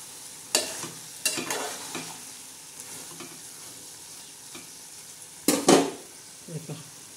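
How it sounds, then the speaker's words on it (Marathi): Fried eggplant and potato get stirred in a pan, several sharp scrapes and clanks of a spatula over a low, steady sizzle, close and fairly loud in bursts with quieter frying in between. "तर परत एकदा आपण हलवून देऊया आपली वांगी फ्राय"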